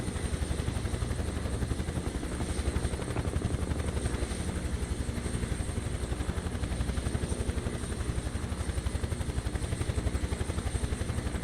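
A helicopter in Microsoft Flight Simulator 2024, flying over the Grand Canyon, gives a steady, loud rotor drone with a fast, even blade chop that continues unbroken throughout.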